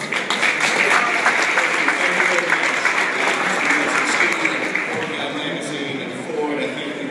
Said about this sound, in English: Please give a round of applause to 2012 Man of Power and Influence